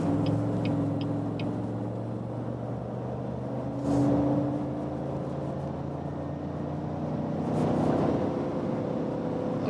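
A Cadillac Escalade with all-wheel drive accelerates slightly downhill from 90 toward 150 km/h, heard from inside the cabin. The engine gives a steady low drone and road rumble, rising subtly in pitch, with faint ticking early on.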